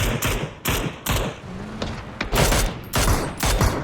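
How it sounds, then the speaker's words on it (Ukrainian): Gunfire in the video game PUBG during a match: loud bursts of rapid shots in quick succession, several volleys with short gaps between them and some thumping impacts. "О, тут уже стрілянина."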